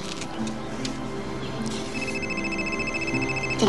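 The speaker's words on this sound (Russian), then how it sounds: "Телефон." A telephone rings in a television drama, a steady repeating electronic tone emerging partway through over a dense background of music and room noise.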